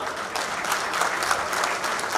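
An audience at a Hindi-language public speech in Bhagyanagar claps loudly and steadily, a dense, sustained burst of applause filling the space, with no voice rising above it.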